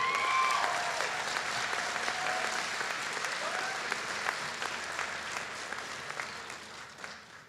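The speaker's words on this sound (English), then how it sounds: "You can clap, that's 30 is good." Audience applause at a Ferguson High School graduation ceremony, a steady wash of many hands clapping that fades slightly toward the end, with faint voices beneath.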